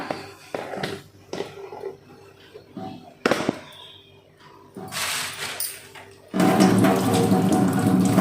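Hands being scrubbed and rinsed with running tap water and coffee powder at a sink, with splashing and intermittent water bursts, ending in a steady loud pour close by.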